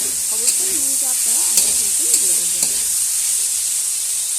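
Ginger, garlic and onion paste with ground spices sizzles steadily in hot oil, a bright continuous hiss with a few sharp spatters and a faint voice drifting underneath.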